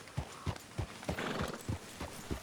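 A horse in Red Dead Redemption 2 clip-clops in a steady, even hoof rhythm of about eight hoofbeats, close and moderately loud, with a brief whinny blended in.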